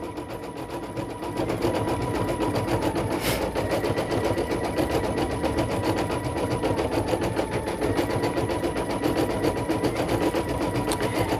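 A single needle embroidery machine stitching a design onto a child's sweatshirt, a fast, steady mechanical chatter that runs continuously at an even rhythm and picks up slightly in loudness after the first second.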